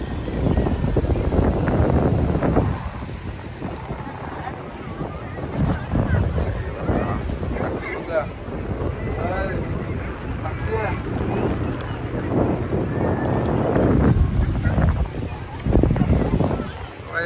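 Evening at Varsoli beach in Alibag, Raigad: gusty wind buffets the microphone over washing surf and rising water, with people talking throughout.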